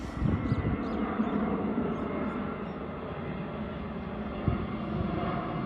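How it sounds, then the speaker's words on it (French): A Hawaiian Airlines airplane passes overhead near Honolulu above a golf course, a steady broad engine roar holding at moderate loudness for several seconds, with faint bird chirps near the start. "on a droit à un petit avion d'Hawaiian Airlines"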